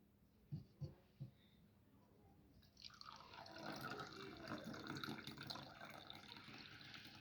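Hot water poured steadily into a cup for a reishi mushroom drink, a sustained splashing fill lasting several seconds after a few light knocks and taps.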